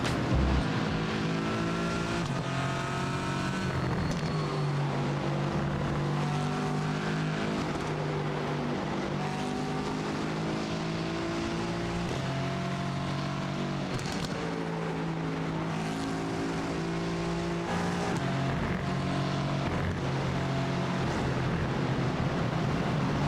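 An Aston Martin GT4 race car in the iRacing sim at Mugello roars continuously, its engine note rising and falling through gear changes over a long stretch of track, loud and alone.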